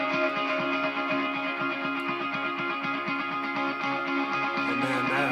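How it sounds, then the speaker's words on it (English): Atmospheric guitar layer in a song mix, a washy, effected sustained texture with a faint repeating low pulse beneath, steady and moderately quiet throughout. "this guy, which is kind of like a sort of an atmosphere kind of guitar"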